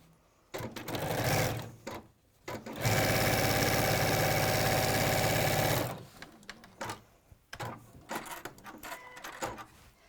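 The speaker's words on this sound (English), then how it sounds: "Then we sew down this side." A sewing machine runs a steady, close, whirring stitch along a zip bag seam for about three seconds, with softer handling noises and fabric rustling before and after.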